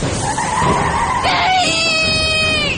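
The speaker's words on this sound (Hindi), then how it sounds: "ट्रेन ऐसी तेज आवाज करते हुए रुकी जैसे कोई चलती हुई गाड़ी रुकती है" A train's loud metallic screech rises and holds as it grinds to a stop, the shrill squeal ringing on over rumbling noise.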